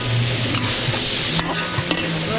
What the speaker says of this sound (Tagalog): gigisa natin